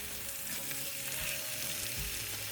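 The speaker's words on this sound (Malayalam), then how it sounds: "ഇനി ഒരു അടപ്പ് വെച്ചും അടച്ച് രണ്ട് വശവും കുക്ക് ചെയ്തെടുക്കാം" Fish coated in kanthari chili paste cooks slowly in a covered pan, a continuous muffled sizzle and crackle that stays even and close, with no one speaking.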